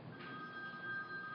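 A telephone rings at an afternoon advertising-industry conference session, sounding as a steady, faint electronic ring tone that continues for the whole moment with no talk over it.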